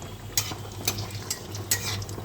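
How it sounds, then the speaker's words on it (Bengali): Cumin seeds and dried red chilies tempering in a little hot oil in a kadai, a steady soft sizzle with a few sharp clicks and scrapes of a spoon stirring, close and alone. "গরম হলে জিরে ফোড়ন দিলাম, লঙ্কা ফোড়ন দিয়ে দিলাম।"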